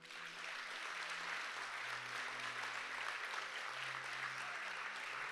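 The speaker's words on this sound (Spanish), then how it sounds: "Dale un aplauso a Él." Church congregation applauding together during a Spanish-language Christmas service, a steady, dense clapping wash that fills the room without pause, with a faint low musical drone sustained underneath.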